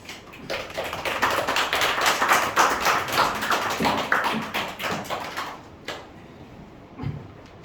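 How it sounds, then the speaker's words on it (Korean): A church congregation clapping steadily for several seconds to welcome a pastor, then the applause thins out to a few scattered claps. "박수로 환영하고 함께 말씀 듣겠습니다"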